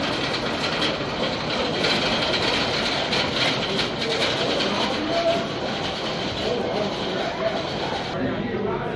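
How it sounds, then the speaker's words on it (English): The Ghost Rider wooden roller coaster train at Knott's Berry Farm rolls through at night, a sustained rattling roar of wheels on track with clattering texture, heard under a person talking. "Ghost Rider is back open, and those ghost trains are rolling through the night"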